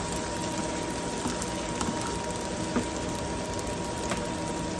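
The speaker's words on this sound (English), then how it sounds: "that helps deglaze the pan to get all that goodness off the bottom" Liquid deglazing a hot pan after searing steak, giving a steady, close bubbling sizzle that holds evenly throughout, with no talking.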